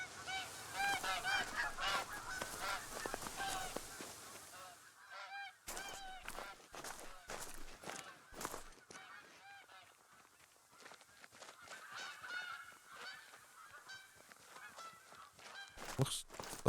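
A flock of geese honks repeatedly in the hunting game Call of the Wild, with loud clustered calls, a brief lull, then further scattered honking at varying distances.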